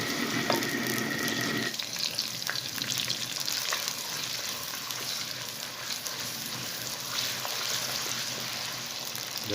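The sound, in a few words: onion frying in hot ghee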